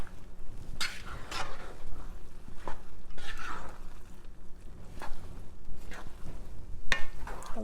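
A spoon stirs a pot of Liberian dry rice seasoned with adobo all-purpose seasoning, making repeated scraping and clinking strokes at an uneven rhythm over a low sizzle, close and moderately loud.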